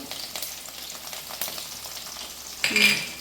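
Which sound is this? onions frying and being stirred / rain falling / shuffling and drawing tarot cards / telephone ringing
onions frying and being stirred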